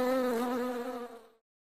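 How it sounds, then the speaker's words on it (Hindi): A honeybee buzzes steadily and fairly close for about a second and a half, a smooth droning hum that fades and stops abruptly into silence, heard in a comedy TV scene. "देखिए मधुमक्खी"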